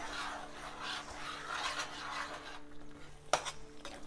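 Pineapple kesari, a South Indian sweet, being stirred in a pan over low heat: soft scraping and rubbing of a spoon against the pan with a faint sizzle, then one crisp metallic clink near the end.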